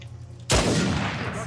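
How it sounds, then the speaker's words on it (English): A sudden loud gunshot burst in the video game Uncharted 4, striking near and hard after a quiet moment and then trailing off into a noisy decaying rumble. "I'm gonna shoot this guy down here."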